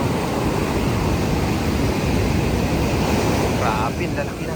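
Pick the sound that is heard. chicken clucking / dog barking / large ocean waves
large ocean waves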